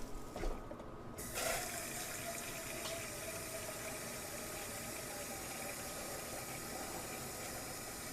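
Water runs steadily into a steamer pot on a stove, a continuous faint rush of filling liquid with a brief clatter at the start and no voices.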